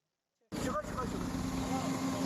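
A three-ton Mitsubishi vehicle's engine starts abruptly from silence and settles into a steady, loud idle, with its new condenser fan running alongside in a constant drone and hum.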